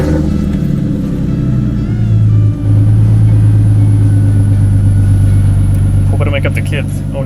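A car engine, unstarted for a while, idles with a steady low rumble, rising briefly in a rev near the end, with no voices.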